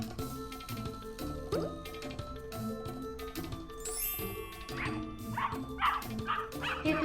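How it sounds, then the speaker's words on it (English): A dog barking in a farm setting, a series of sharp repeated barks and yips in quick bursts, close and clear, with a few higher whimpering notes and no voices over it. "Dog also lives in farm."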